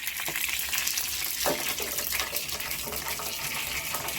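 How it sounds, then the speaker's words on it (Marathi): Water pours into a hot pan of oil tempered with curry leaves and chilies for a dhokla, a close, continuous gushing sizzle and splashing hiss with a few louder bursts. "तेवढं पाणी ओतून घ्यायचं"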